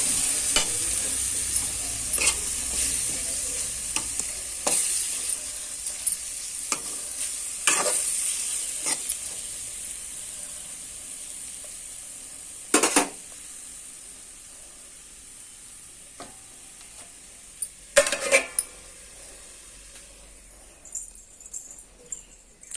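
Two eggs fry in a pan with a steady soft sizzle and hiss, broken by several sharp, close scraping stirs of a spatula against the pan.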